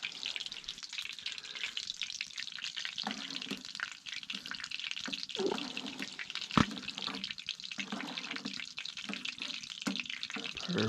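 Rice tipped into a pan of seasoned squirrel meat in a winter hot tent, giving a steady close sizzle and stirring scrape, with one sharp knock partway through.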